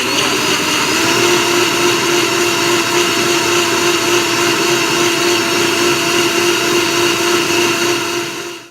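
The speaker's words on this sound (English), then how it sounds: "It is mixing. You can hear the cashews in there." A blender grinds cashews for vegan cashew cheese with a loud, steady, high motor whine and a gritty churning texture, running close and continuous before cutting off at the end.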